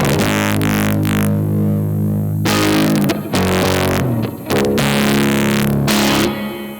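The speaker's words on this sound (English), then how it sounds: "the distortion characteristic has moved upwards a lot because that low information is not hitting the preamp as hard" Distorted instrument driven through a distortion preamp with a high-pass filter cutting the lows, playing sustained chords in loud bursts separated by brief gaps, with a thinner, brighter gritty tone.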